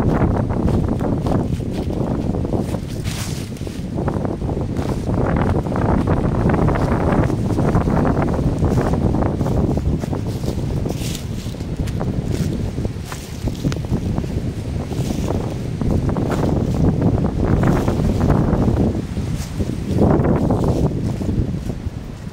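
Strong outdoor wind buffets the microphone in continuous rumbling gusts, loud and close, rising and falling throughout with no other clear sounds.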